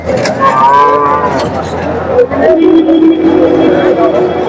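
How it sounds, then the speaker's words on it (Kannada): HF and Jersey cows low loudly and close by at a weekly cattle market near Palamaner, with long drawn-out moos over a busy outdoor crowd murmur while someone talks nearby. "ಹಿಂಗಿದಾವೆ ಹಸುಗಳು"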